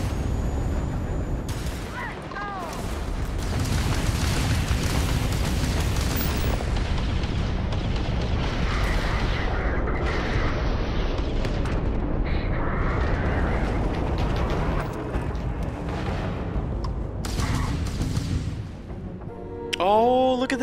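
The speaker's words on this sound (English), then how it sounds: "unfortunately for the ship, it was being bombarded by Ecliptic faction" Starfield space combat as the Ecliptic faction bombards a ship: a sustained roar of booms and blasts runs loud and continuous, then briefly drops near the end before more effects.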